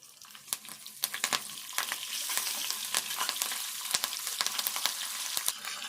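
Onion pieces and curry leaves fry in hot oil with cumin for a bitter gourd and sesame spice dish, a steady close sizzle broken by frequent sharp clicks of a spoon stirring the pan.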